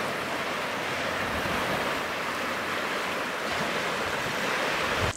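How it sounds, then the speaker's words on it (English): Steady ocean surf washing onto a shore on a bright day, a continuous broad roar with some wind noise on the microphone and no voices. "Can you hear the ocean?"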